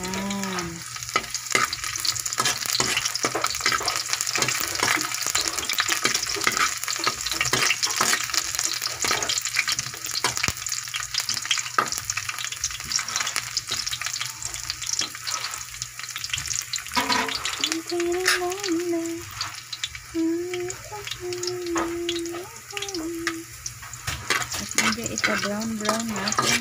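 Garlic browns in a hot pan with a bright, continuous sizzle and frequent scrapes and clinks of a stirring utensil, while a voice speaks briefly in the background.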